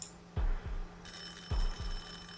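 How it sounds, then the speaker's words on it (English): A doorbell in a video game flat rings twice, two loud, evenly spaced electronic chimes with a bright lingering tone after them, heard alone. "The silence of my flat was disturbed by the ringing of the doorbell."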